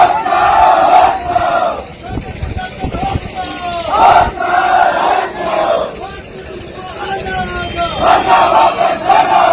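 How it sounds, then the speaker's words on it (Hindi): A large crowd roars and chants at a political rally in Gopeshwar, loud and close, with repeated surging cheers rising and falling in waves. "इतनी भीड़ जमा हो रखी है गोपेश्वर में।"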